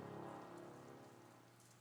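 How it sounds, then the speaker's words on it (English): Steady rain falls in the video game Ender Lilies as a soft, continuous patter and hiss of drops, quiet and even throughout. "the rain began to fall"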